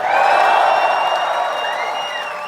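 Large political rally crowd in Oakville cheering and whooping, a loud sustained roar that eases off slightly toward the end.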